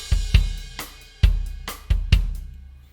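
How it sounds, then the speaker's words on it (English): An EZdrummer virtual drum track plays a backbeat with side-stick clicks, giving a few seconds of punchy kick and snappy stick hits in a steady groove. The hits are close and dry, with no voices. "it's just basically a nice backbeat and a little side stick there."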